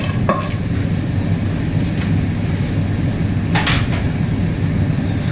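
Cloves and black pepper sizzle steadily in a hot pan for a vegetable masala pulav, with a few sharp clinks of a spoon stirring against the metal, no talking.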